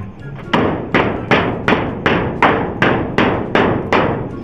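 Nine steady, evenly spaced hammer blows strike a lock and drive it into place, each a sharp close thud with a short ringing decay.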